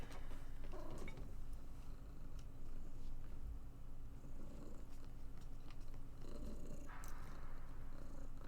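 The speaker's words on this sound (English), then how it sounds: "Oh, hello, little kitty cat." Cat purring close up, a steady low rumbling purr running throughout at a soft level, with a few faint rustles and small mouth sounds over it.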